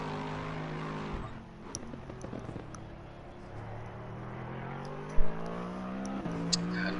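A Porsche GT3 race car in a racing video game at Paul Ricard, its engine droning steadily with rising and falling pitch as cars pass, plus a few sharp clicks and pops, moderately loud with no talk.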